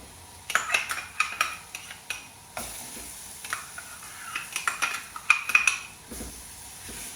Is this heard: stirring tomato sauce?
yes